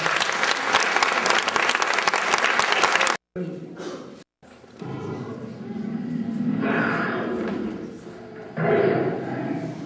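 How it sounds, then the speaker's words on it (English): An audience applauds at a school drama evening, with dense, steady clapping for a few seconds before it cuts off, followed by room noise and a voice speaking. "How about a round of applause and encouragement?"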